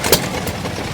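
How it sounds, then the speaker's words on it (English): Antique Rock Island hit-and-miss engine from the 1920s, about one and a half horsepower, belt-driving a seed cleaner: a single sharp pop near the start, then a low steady mechanical churn. "The only time these engines use fuel is when it hits. Right there, when you hear a pop."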